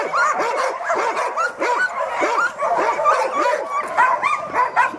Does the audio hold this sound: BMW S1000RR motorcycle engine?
no